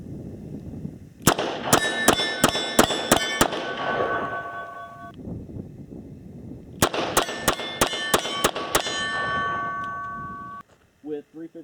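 Two rapid strings of about seven shots each from a Smith & Wesson 686 Plus .357 Magnum revolver, every shot followed by a sharp ringing clang of steel targets, with a pause between strings and a short voice at the end.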